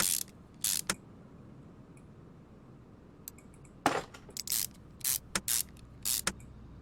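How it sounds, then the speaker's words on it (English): Camshafts are bolted down in Car Mechanic Simulator 2021, a series of short ratcheting, spraying mechanical bursts in irregular clusters over a quiet background. "I just want to finish bolting the cams down so I don't miss anything."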